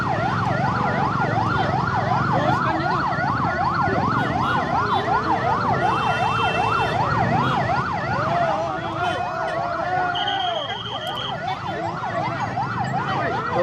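A fire engine siren yelps in a rapid, regular up-and-down warble, loud and close, over engine rumble and street noise, then eases off, at a house fire on Jalan Poros Pallangga in Gowa, Indonesia.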